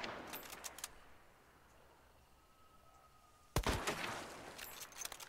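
Gunfire in a shooter video game on hard difficulty, with a brief burst of shots early on, a quieter stretch, then a sharp loud shot followed by more rapid firing near the end.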